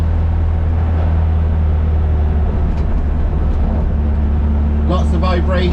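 A stripped-out Toyota MR2 Mk3, full of vibration and rattles, driving gently while warming up: a loud, steady low engine drone with road rumble throughout, and a voice briefly breaking in near the end.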